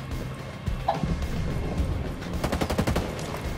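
Rapid automatic gunfire in a video game, aimed at a generator, with dense bursts of shots rattling continuously, the sharpest volleys clustered toward the end.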